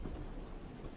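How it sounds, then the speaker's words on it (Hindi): Heavy rain with rolling thunder, a dense steady roar of rainfall with a low rumble underneath, brief and fairly quiet. "देख कितनी तेज बारिश हो रही है।"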